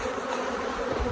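Honey bees buzz steadily at an open hive while robber bees are active, a dense, continuous close-up hum with no voices.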